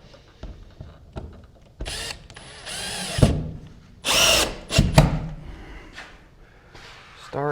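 Short bursts from a power drill driving screws into the siding of a mini cabin, several whirring spurts of varying length separated by pauses, close and fairly loud, with faint clicks and handling between.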